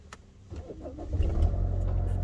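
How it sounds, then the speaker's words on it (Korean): A car engine turns over and catches on a snowy day, with a short low rumble that rises into a steady idle lasting to the end. "시동 하시고"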